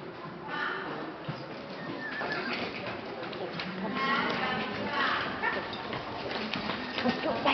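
Horse galloping under a rider in an arena, a steady background of hoofbeats mixed with nearby voices talking and a bird calling, fairly even loudness throughout.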